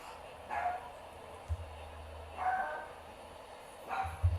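A dog barks during a live Giants–Braves baseball broadcast, giving several short barks spread across the moment, fairly faint and roomy against steady background noise, with low thumps between them.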